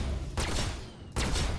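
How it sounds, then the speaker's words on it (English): Ship guns on an Aegis Sabre fighter in Star Citizen firing in two loud, dense bursts separated by a brief pause, close and alone with no talking. "just a quick gun check to see whether they all work"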